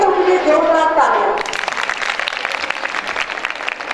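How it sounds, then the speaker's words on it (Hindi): An audience at a school art festival breaks into applause for the children, a dense patter of clapping that starts right after a voice speaks and continues steadily to the end. "उन सब बच्चों के लिए जोरदार तालियां।"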